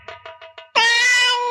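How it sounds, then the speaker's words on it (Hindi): A cat crying with four short, quick mews followed by one long, loud, wailing meow, close by and clear, with no talking. "लाला ये बिल्ली क्यों रो रही है?"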